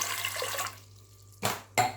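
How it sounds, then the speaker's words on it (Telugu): Water pours into a pressure cooker holding toor dal for boiling: a steady broadband rush for under a second, then two short, louder splashes, close by with no talking. "ఇప్పుడు వాటర్ పోసుకున్నాం ఉడకబెట్టుకోవడానికి"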